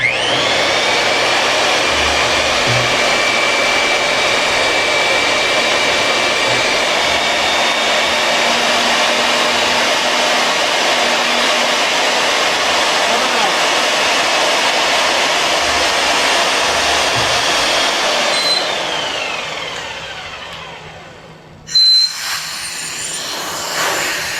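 A drill runs in high gear through a center punch during hydro dam restoration work, a loud continuous high whine that holds steady for about twenty seconds before winding down and cutting off with a clunk.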